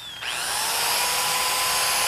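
A Makita electric drill winds up quickly and keeps running at a steady high-pitched whine, loud and close, with no voices over it.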